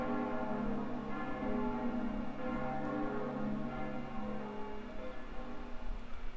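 A large bell tolls in the video game Fate/Grand Order, a sustained rich ringing tone with layered overtones that swells and slowly fades under a steady background.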